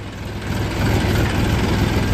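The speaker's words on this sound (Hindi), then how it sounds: "भगा लेते हैं ट्रैक्टर को" A tractor engine runs steadily while pulling a trolley loaded with straw, its low heavy rumble close and continuous throughout, with no talk.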